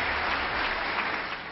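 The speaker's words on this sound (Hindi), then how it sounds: "जिसके बाद पूरा सदन तालियों की गड़गड़ाहट से" A thunderous, dense roar of applause fills the chamber of the US Congress, a brief unbroken wash of many hands clapping at once.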